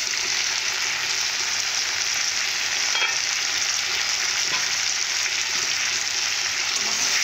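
Potato and papad curry simmering under a lid in a pan, giving a constant soft sizzle and bubbling hiss at an even level throughout, with no other sounds over it.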